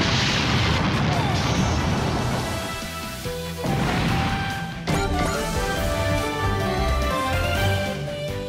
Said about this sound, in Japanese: もう無理だ、爆発する。